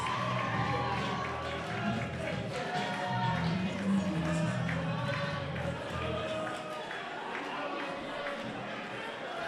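A crowd at a boxing fight in a stadium in Auckland roars and cheers steadily throughout, a dense continuous wash of voices with some rhythmic tapping mixed in.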